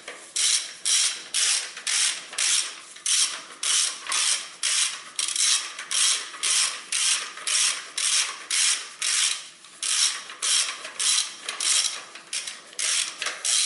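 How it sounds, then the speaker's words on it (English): Ratchet with a 17mm socket fastening water pump bolts on a 1992–2004 Honda Civic, a rapid regular series of close, loud ratcheting clicks in steady back-and-forth strokes. "Now I take my tool, and then I fasten that, these bolts."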